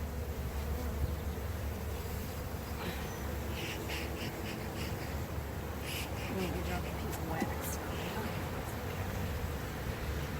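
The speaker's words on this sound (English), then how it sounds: "These bees are going right to town." Honey bees hum in a dense, continuous buzz during a backyard hive inspection, close and steady, with faint handling noises and occasional brief sounds over the drone.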